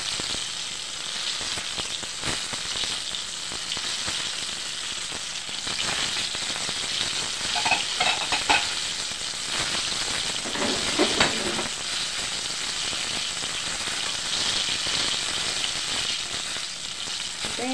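Tilapia fish steak sizzling in hot oil in a frying pan, a steady broadband crackle and hiss throughout, close and fairly loud, with occasional utensil clinks; no talking.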